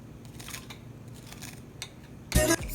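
An extra crispy homemade onion ring gives one loud, sharp crunch close to the mic near the end, after a quiet stretch with faint rustling.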